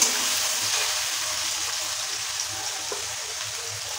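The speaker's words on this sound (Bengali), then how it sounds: "পেঁয়াজ কুচি দিয়ে ভালো করে পেঁয়াজটাকে লাল লাল করে ভেজে নেবো।" Chopped onion fries in a pan until reddish, making a soft, even sizzle and hiss that continues steadily from start to finish with no talking.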